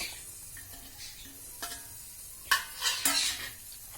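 Coriander leaves, garlic and onion stirred in a hot pan, a few scraping spoon strokes and soft sizzling, with clinks of utensil against metal growing louder toward the end.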